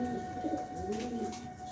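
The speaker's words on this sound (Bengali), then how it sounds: "খুব সুন্দর দেখার মতো এক জোড়া কবুতর।" A pair of pigeons cooing softly, low rolling coos repeating over a steady background hum, moderately faint and close by.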